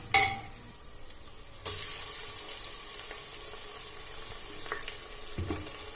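Spices hit hot oil with a sudden loud sizzle that keeps crackling steadily, with a faint clink partway through and no voices.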